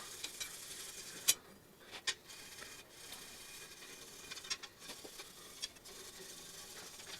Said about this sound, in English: this scrub pad seems to clean that crusty stuff, whatever it is, seems to clean that off really well